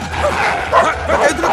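A dog barks and yelps in quick, loud, closely spaced cries in a Hindi comedy film scene, busy and close throughout.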